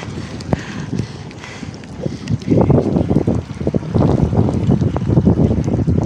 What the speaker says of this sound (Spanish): Pues al final nos ha cogido el chaparrón fuerte. Está cayendo bastante agua.